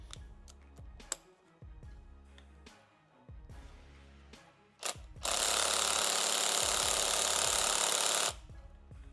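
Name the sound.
impact gun on soft setting fastening motorcycle suspension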